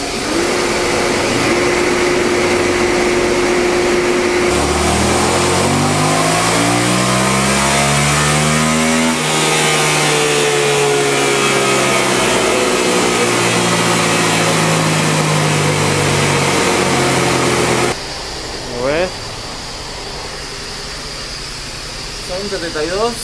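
A loud motorcycle engine with its original exhaust revs up repeatedly on a dyno, its pitch climbing and holding high, then drops to a lower idle for the last few seconds.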